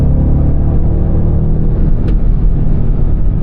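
A car accelerates hard on the Nürburgring track, its engine roaring loud and close with a steady, dense rumble throughout and no voices.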